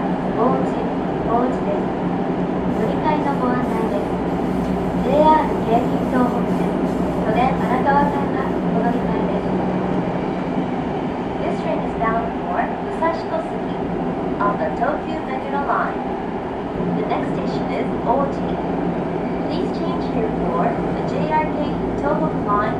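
A Tokyo Metro Eidan 9000 series subway train runs between Urawa-Misono and Musashi-Kosugi with a steady low rumble of wheels and motor inside the car, while an onboard announcement voice speaks over the running noise.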